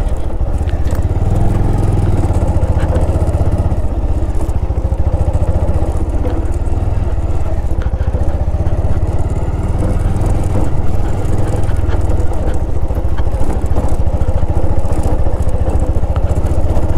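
A motorbike rolls slowly along a forest road in the Jungle Mahal area, its engine a steady, close, continuous rumble with a rough low drone that holds the same level the whole way through, with no voices over it.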